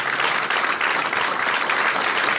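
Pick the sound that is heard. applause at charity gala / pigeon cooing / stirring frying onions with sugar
applause at charity gala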